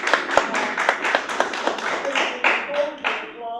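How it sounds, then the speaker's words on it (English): Scattered hand clapping from an audience at a city candidate forum, a handful of sharp claps spread over a few seconds amid room murmur and brief speech, not a full ovation. "Hold the applause until we're all finished so that we can applaud for everybody"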